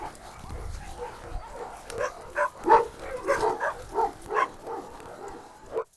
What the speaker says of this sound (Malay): Ada seekor anjing datang ke depan pintu.